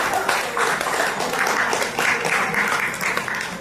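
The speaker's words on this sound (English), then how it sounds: "Special round of applause" Audience applause at a live AI hackathon event, steady dense clapping from a crowd held at an even level throughout.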